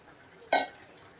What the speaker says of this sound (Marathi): थोडंसं अजून पाणी टाकून घेते